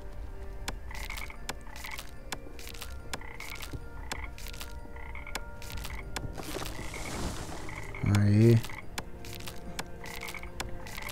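A toad in Niffelheim croaks in a repeating pulsed rhythm, each call a short rattling burst at steady intervals, with a brief louder game sound near the end and a voice exclaiming once.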